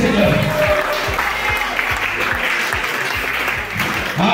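Church congregation applauding in praise of the Lord, a loud, sustained wash of clapping from many hands that fills the whole span, with some voices mixed in and steady low thumps underneath.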